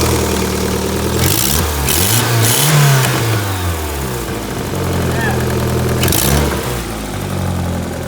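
A Toyota Glanza engine fitted in a Mini runs loud and close, rising into strong revs, settling, then revving sharply again.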